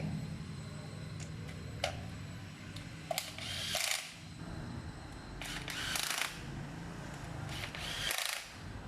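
Nuts are tightened on the gear housing of a Kubota walking tractor with a Siam Elephant frame, heard as several short, close bursts of tool noise with small metallic clicks between them.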